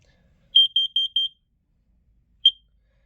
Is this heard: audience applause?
no